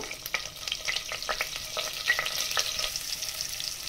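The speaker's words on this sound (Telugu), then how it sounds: "ఈ పోపు అంతా వేగిపోయింది" Tempering spices and a pinch of asafoetida fry in oil, a loud continuous sizzle with scattered crackles and pops. No one talks.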